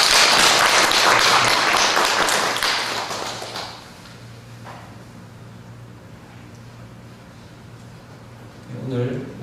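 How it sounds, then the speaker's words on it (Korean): A church congregation claps in a dense burst of applause for a few seconds, loud and close, then it fades to quiet room tone before a voice begins speaking at the end. "박수 한번 할까요?"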